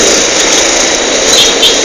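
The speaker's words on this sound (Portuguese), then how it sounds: "Esse cara acelerando atrás." A vehicle engine accelerates behind a Yamaha Fazer 250 motorcycle on the road, a loud, continuous roar blended with heavy rushing wind noise.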